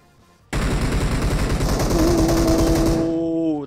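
Sustained automatic gunfire from a teammate in PUBG Mobile, a dense rapid burst that starts abruptly and runs for about two and a half seconds, loud and close, with a rising tonal whine over its later part.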